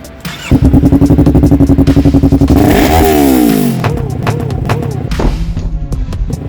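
A Yamaha R3 motorcycle with an Akrapovic slip-on exhaust and a flash tune revs hard and close, with rapid rising and falling throttle blips that settle into a choppy, pulsing idle.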